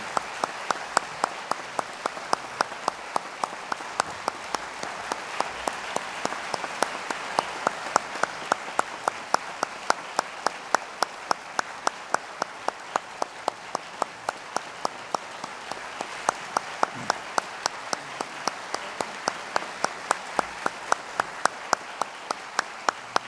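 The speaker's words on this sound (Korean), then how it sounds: "박수하겠습니다." A church congregation applauds during a Sunday evening service, with steady, sustained clapping from many hands that carries on evenly for over twenty seconds without speech.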